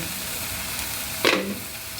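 Pointed gourd frying in ghee for a curd gourd dish: a steady soft sizzle with one brief louder burst of spattering partway through, no voices.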